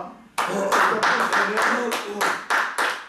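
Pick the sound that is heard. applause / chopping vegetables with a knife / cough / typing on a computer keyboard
applause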